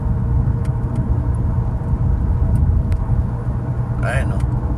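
Continuous low droning rumble of a car moving at speed, likened to an airplane taking off, with steady road and engine noise and a brief higher whine near the end.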